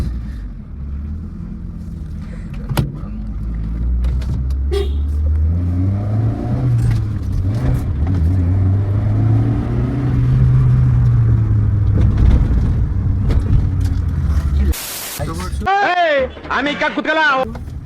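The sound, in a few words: Hyundai Santro Xing 2006 car engine running after start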